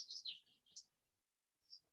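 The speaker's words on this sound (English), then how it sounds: "I think the birds are celebrating it as well." Birds chirp outdoors during a yoga class, with a few bright tweets clustered at the start, one more after a short pause and a final call near the end, faint against a quiet room.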